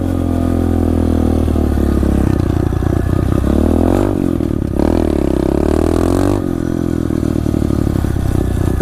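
An SSR 125 pit bike rides around a backyard trail, its small engine loud and close, revving up and down steadily with clattering shifts and brief throttle dips, no talk.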